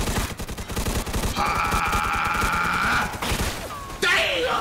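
Rapid gunfire in the video game Mafia 2 Definitive Edition, a dense stream of close shots throughout, with a whistling tone in the middle and a sharp burst near the end.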